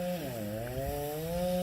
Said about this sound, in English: Maybe you hear a chainsaw running.